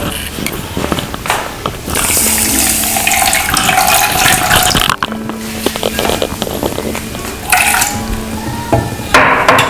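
Water is poured into a saucepan holding sugar for boba coffee, giving a close, continuous splashing pour that starts, pauses and resumes, with a voice speaking over parts of it.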